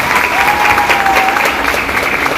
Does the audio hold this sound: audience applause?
yes